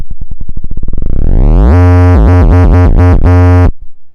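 Arturia MiniBrute synthesizer with its LFO sped up in a modular patch: a loud buzzing tone whose pulses speed up into a continuous rising drone, then wobbles and dips several times before cutting off, with no voices.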